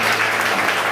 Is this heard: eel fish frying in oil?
no